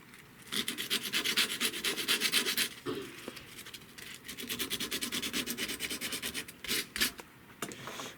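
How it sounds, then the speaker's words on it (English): Sanding the inside of a homemade Nintendo Switch part: quick, rhythmic back-and-forth rasping strokes, close and steady, in two main bursts with a brief pause between them. "sand the inside real quick"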